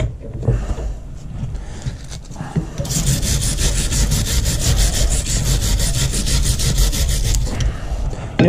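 A metal file scrapes a crusty brake caliper shim during a brake caliper service, heard as a fast, even run of close, loud rasping strokes after a few quieter handling knocks at the start.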